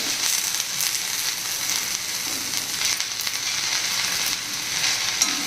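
Okra sizzles steadily in a pan after a squeeze of lemon, a continuous close crackling fry with small pops and bursts, with no talking.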